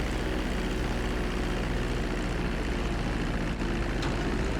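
Steady drone of a Dash 8 turboprop airliner's engines during descent in GTA V, a loud continuous roar with a low hum and no breaks, heard alone without talk.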